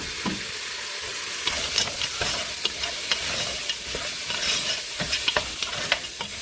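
Goat meat frying in oil with onions and garlic while it is stirred. A steady, dense sizzle runs throughout, with scraping stir sounds popping up irregularly; it sounds close and fairly loud, with no talking.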